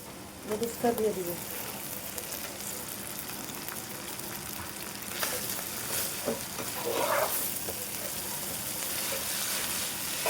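Noodles stir-fried with chicken liver and spices in a pan: a continuous crackling sizzle with stirring scrapes throughout, fairly close, with a voice speaking briefly.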